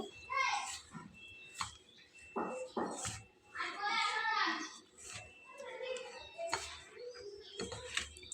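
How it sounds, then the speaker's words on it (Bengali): Children playing cricket just outside a window, heard from indoors: distant shouts and chatter come in bursts, mixed with bird calls and the soft cooing of pigeons. "ঠিক আমার জানালার পাশে ক্রিকেট খেলা হচ্ছে, যার জন্য আমি খুব দ্রুত ভিডিওটা কমপ্লিট করছি।"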